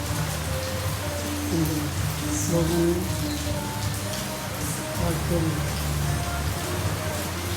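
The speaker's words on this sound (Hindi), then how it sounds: "तो मॉनसून की पहली बारिश है" The season's first monsoon rain falls steadily, a dense continuous patter of drops on surfaces, while someone talks over it at close range.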